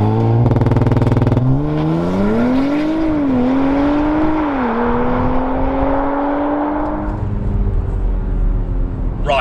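A 2018 Audi RS4 held at about 2,500 RPM on launch control, then surging away in a loud, rising acceleration through the gears that fades toward a steady drone near the end.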